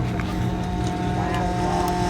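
A 1977 Plymouth Volare super stock drag car idles with a steady, loud, lumpy low rumble, heard close by for a couple of seconds.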